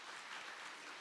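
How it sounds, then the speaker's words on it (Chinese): Congregation clapping together during a Sunday church service, a steady even wash of applause from the whole room, with no talking over it. "好，咱个人拍手感祝福。"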